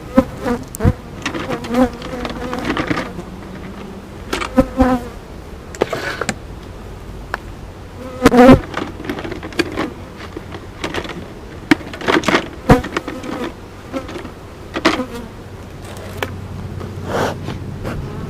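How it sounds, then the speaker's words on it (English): Honey bees buzz steadily at an open backyard beehive, a close, continuous drone with individual bees flying past the microphone, with no voices. "we're over here at hive number 1. Let's get into them and see what they've been up to"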